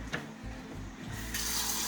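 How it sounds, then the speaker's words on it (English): Cold tap water runs over fresh cilantro in a colander, a steady broadband rush that swells louder in the last half-second, with no talking. "So I'm going to run water over it."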